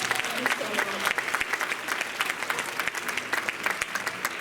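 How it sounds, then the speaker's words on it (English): An audience at a Suzuki music concert applauds a volunteer, dense continuous clapping from a crowd, fairly steady and moderately loud. "if we could give her a round of applause for volunteering"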